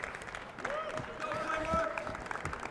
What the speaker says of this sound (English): you guys clap it up for him a little bit